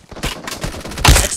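Gunfire in a shooter video game, a rapid series of sharp shots rattling off close and loud, ending in a heavier blast.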